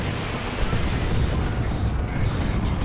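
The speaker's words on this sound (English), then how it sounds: "Stun bombs into a tank buster barrage." Stun bombs and a tank buster barrage in Warhammer 40,000: Dawn of War 2, Orks against Chaos Space Marines, make a dense, continuous roar of blasts and rumbling impacts with no clear pauses.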